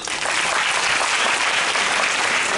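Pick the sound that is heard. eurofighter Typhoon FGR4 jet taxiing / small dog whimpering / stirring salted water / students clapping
students clapping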